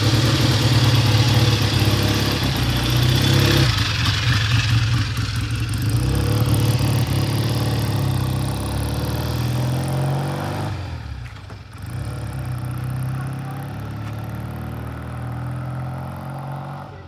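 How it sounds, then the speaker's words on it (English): A Triumph 350cc 3TA motorcycle engine runs continuously at close range and is kicked into first gear. Its steady mechanical chug shifts in tone partway through and again later as the gear engages. "let's see what happens when he kicks it into first."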